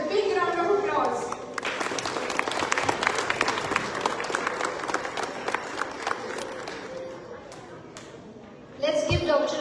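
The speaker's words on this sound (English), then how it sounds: "Let's show our appreciation with a big round of applause." Applause from an audience at a Buddhist Dhamma Chakra Pravartan Din gathering honouring a speaker, a dense sustained clapping that swells and runs for most of the stretch, fading near the end before voices return.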